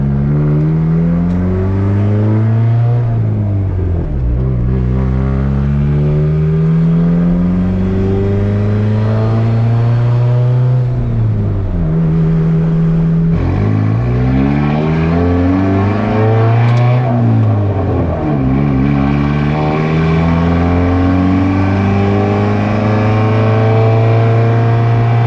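A turbocharged Honda Civic with a built single-cam engine accelerates hard and revs while driving, its loud, close engine note climbing through repeated gear pulls with brief dips at the shifts, filling the whole stretch without talk.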